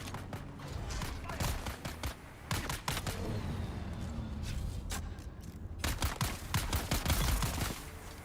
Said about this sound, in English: Quit shooting at my buggy.